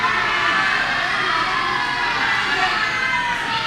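A wrestling crowd at a tag-team championship event cheers and shouts without pause, a dense, loud wash of many voices filling the arena.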